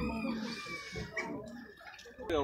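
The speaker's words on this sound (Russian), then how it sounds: "Вот такие вот петушки и курочки, пара 1500." Sebright chickens, roosters and hens, caged at a bird fair, cluck and call close by in a short burst, with a higher squawk at the end.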